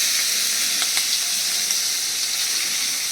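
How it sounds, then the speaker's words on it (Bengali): Chopped onion sizzles in hot oil with cumin seeds, bay leaves, cinnamon and cardamom for a hotel-style egg and potato curry, a steady close frying hiss with a few sharp crackles and pops throughout, no voices. "এবার এর মধ্যে দিয়ে দিচ্ছি পেঁয়াজ কুচি।"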